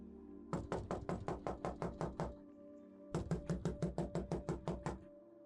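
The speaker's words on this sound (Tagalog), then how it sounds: "Malakas ang naging katok ni Lucia sa pintuan ng bahay" Someone knocks loudly on the door of a house at night, two long runs of rapid, evenly spaced heavy raps separated by a short pause, close and dominant.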